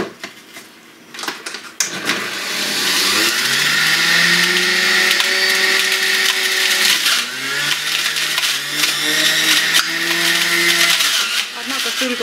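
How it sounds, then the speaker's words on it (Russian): Apples ground in an electric juicer for homemade apple juice, a loud sustained whirring motor with crunching, starting after a few knocks and running steadily to the end. "Закидываем яблочки. И будем их потихонечку перекручивать."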